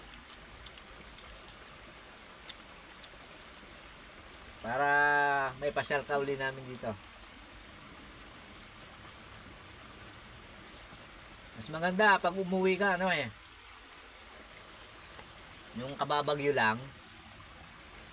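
A steady wash of flowing stream water and a riverside waterfall runs underneath throughout, with a faint insect-like hiss, while people talk in short bursts over it.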